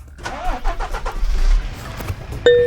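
A truck engine cranks and starts in the driving game Trucker of Europe 3, with the rig about to haul a heavy 120-ton train load out of town. A low, uneven rumble builds close up, and a short tonal beep cuts in near the end.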